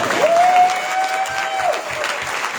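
Steady audience applause at a Republican gubernatorial candidate debate, a dense wash of clapping that holds at an even level throughout, with a thin whistle-like tone sustained over it.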